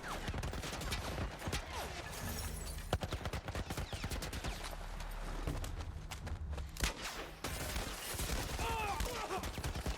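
Turret truck machine gun fire in The Last of Us Part 1, a dense run of rapid gunshots rattling on and off for the whole stretch, loud and close among other game noise.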